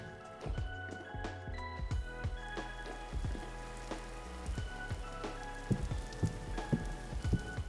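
Rain falls steadily in the game Vintage Story, a constant soft patter dotted with individual drip and splash ticks, heard at a gentle level with no talk.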